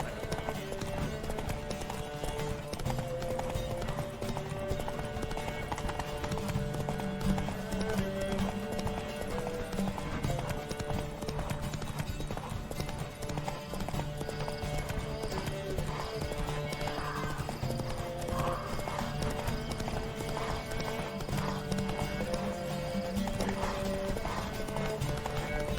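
Rapid clip-clop of galloping hooves with occasional whinnies over a continuous bed of music and game sound effects, from The Witcher 3: Wild Hunt.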